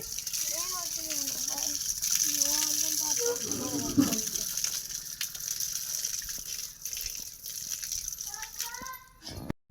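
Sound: water poured for washing feet at a temple

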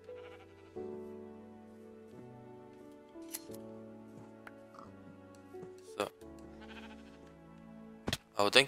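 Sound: sheep bleating in the video game Minecraft

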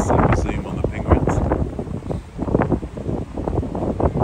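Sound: wind blowing at zoo penguin enclosure

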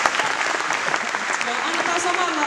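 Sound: audience applause at tribute concert

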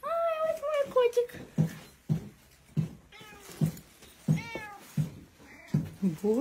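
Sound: cat meowing

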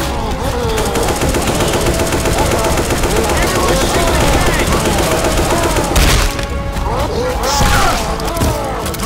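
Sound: gunfire in video game Left 4 Dead 2

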